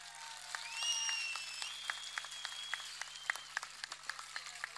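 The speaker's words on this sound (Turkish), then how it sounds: "Onlara birer kuvvetli alkış alayım." Crowd applause at the opening of a CHP election campaign office in Etimesgut, Ankara, steady clapping with scattered sharp claps standing out, plus a high whistle-like tone early on and faint crowd murmur.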